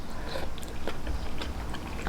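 Crunchy yet cooked vegetables from a bowl of won ton min being chewed up close, with moist, crisp bites and steady mastication sounds repeating without any talking.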